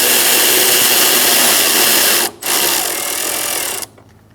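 A tool tightens the nut on the brake master cylinder bracket of a 2004-2009 Mazda 3, a loud continuous mechanical whirr with a brief drop midway and a cutoff near the end.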